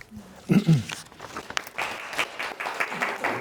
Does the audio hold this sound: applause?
yes